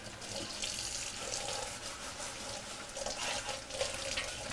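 Running tap water pours steadily over a Cosori air fryer basket being washed in a sink, a continuous hiss and splash with small shifting surges, close and alone without talk.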